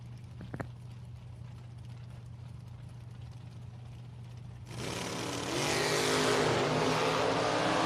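Drag race cars, including a Chevrolet Nova, sit idling with a steady low drone before one launches hard partway through, a loud roaring surge that builds and holds to the end.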